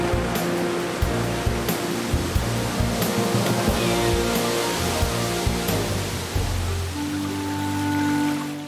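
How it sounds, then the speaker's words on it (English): A waterfall in Krka National Park, Croatia, pours with a steady, dense rushing roar, loud and continuous with a few splashing surges and no voices. "before the water plunges down to Lake Visovac"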